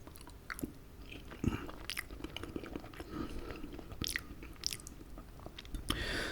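Close-up eating of duck with French-style lentils: soft wet chewing and biting with small clicks and crunchy bites, intimate and quiet with no talk.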